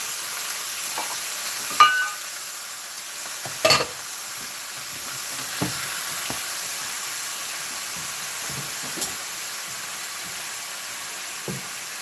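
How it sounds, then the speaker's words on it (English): Shrimp frying in a little canola oil, a steady broadband sizzle running throughout, broken by a few sharp pops and stirring clatters near the start and again at intervals. "I'm throwing in the shrimp. You guys, it's gonna be loud."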